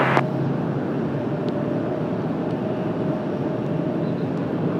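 Jet airliner taking off at Washington Dulles airport on a cloudy day, a steady broad roar from a distance that holds constant, with a faint tonal whine above it.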